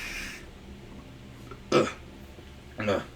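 Two short, gravelly burps from a person sit close and fairly loud, the first louder, separated by about a second of quiet room noise.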